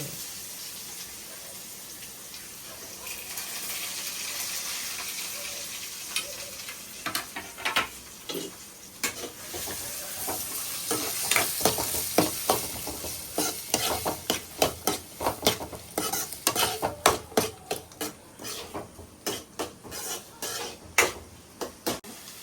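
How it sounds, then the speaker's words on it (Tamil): Chicken gravy ingredients stirred and fried in a pan, a rising sizzle with a rapid series of sharp spoon scrapes and taps against the metal growing louder toward the end, close up with no talk. "இப்போ கிண்டணும் கொஞ்சம் ஃப்ரை பண்ணுறதுக்கு"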